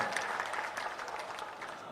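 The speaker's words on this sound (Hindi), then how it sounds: "इसके लिए एक बार बहुत जोर से आप सब ताली बजाकर धन्यवाद करें" Audience at a public ceremony claps in thanks, a faint, distant patter of applause lasting a couple of seconds.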